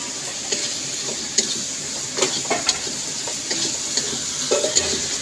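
Prawns and spices sizzle and fry in a pan, a steady close hiss broken by scattered light scrapes and clinks of a spoon stirring, without any talking.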